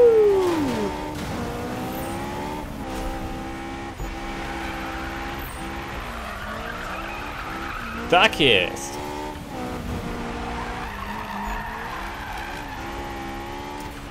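A tuned Honda race car in Need for Speed 2015 revs and drifts, its engine note rising and falling with bursts of tire squeal, while someone talks excitedly over the game.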